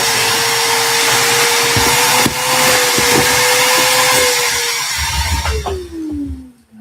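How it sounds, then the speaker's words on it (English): A power sander whines loudly at a steady pitch with rough scraping underneath, then winds down and stops near the end. "I need to go outside and sand the base"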